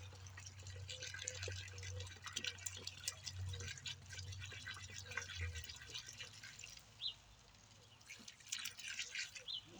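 Water from jugs pours into a mix for a fence post, heard as close, faint splashing trickles and drips with an irregular rhythm, quieter stretches between pours, and a low hum underneath.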